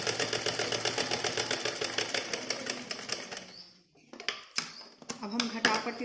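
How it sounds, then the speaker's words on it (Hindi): A sewing machine runs a double seam on a blouse with a fast, even rattling stitch for about four seconds, then stops, followed by scattered clicks and short bursts of machine noise. "डबल सिलाई डाल देते हैं।"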